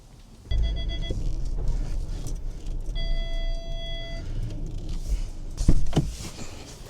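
A car drives up close to a winter forest campsite on a cold day, its engine rumbling steadily nearby with a faint whining tone and a louder bump toward the end.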